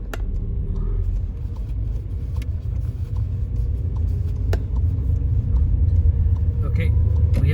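A car on a driving test rolls along a road near Slough, giving a steady low rumble of tyres and engine from inside the cabin with a few faint clicks and knocks.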